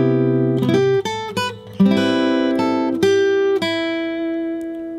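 A chord-melody jazz guitar phrase in C, picked chords and melody notes struck in a lively sequence and left to ring out, played solo and close up.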